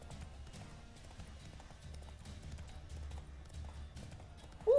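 Roach the horse gallops along a road in The Witcher 3, played in VR: a steady rhythmic clip-clop of hooves, moderately close and continuous, with a soft rumble beneath and a brief sharper sound at the very end.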